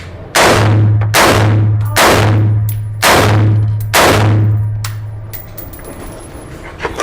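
Five loud, evenly spaced gunshots from a Taurus T4 rifle at an outdoor range, each sharp crack followed by a ringing tail, ending in quiet.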